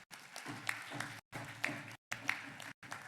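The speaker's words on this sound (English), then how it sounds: "Please clap for them." Scattered clapping from an audience at a university bust-unveiling ceremony, fairly faint and broken by brief cuts, with a few sharper claps standing out.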